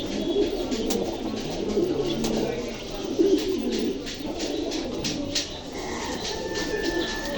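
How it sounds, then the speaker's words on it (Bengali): Large pigeons coo in soft, continuous murmurs at a crowded bird market, a steady cluster of bird voices with faint background chatter. "দেখেন কত বড় কবুতর, মাশাআল্লাহ, 1 কেজি মতো হয়"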